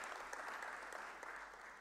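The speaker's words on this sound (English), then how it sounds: "Let's give her a round of applause." Applause from a seminar audience fills the short stretch, a steady, dense clatter of many hands clapping at moderate distance with no talk over it.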